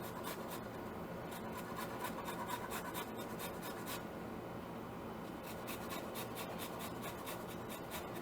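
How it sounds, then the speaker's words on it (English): Limes being zested and their peel trimmed off, making a steady close rasping and scraping that runs throughout in short repeated strokes, with no talking. "Try to zest the limes just to get the zest off and cut the peel off."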